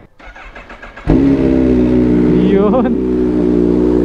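A Yamaha Sniper ABS motorcycle, unused for several days, cranks and starts with a sudden burst, then settles into a loud, steady idle with a short rev in the middle. A brief spoken word comes just before the engine fires.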